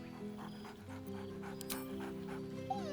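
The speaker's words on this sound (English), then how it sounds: "Scratch barks merrily in something like agreement." A dog in the video game Baldur's Gate 3 pants and whimpers close up, with soft yips and whines over a sustained musical drone.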